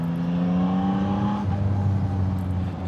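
A Yamaha MT-09 with Y-AMT automatic gearbox in sport mode, ridden on small winding roads near a roundabout, holds a steady engine drone that drops in pitch about halfway through, loud and close with no talk.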